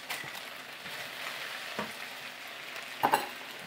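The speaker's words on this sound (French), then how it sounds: "Là, je suis en train de sauter la viande, regardez." Meat sautéing in a pan for homemade kebab, a steady close sizzle with a few louder stirring or spatula clacks near the end, no talking.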